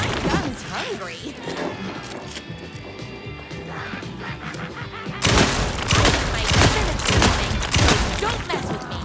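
Gunfire from the video game Alan Wake 2, with dense, loud bursts of shots dominating the second half after a quieter stretch of game sound, with a voice talking over parts of it.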